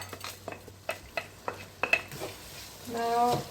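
Rice stirred in a frying pan for Catalan chicken rice: a spoon scrapes and knocks against the pan in several quick strokes, then a soft sizzle swells near the end, all close and fairly quiet with no talking.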